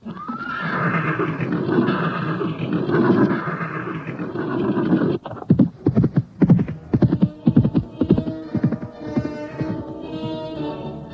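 Horses set off from a village with a loud whinny first, then rapid clip-clopping hooves close by. The hooves beat in a quick, irregular gallop rhythm while more neighing continues over them.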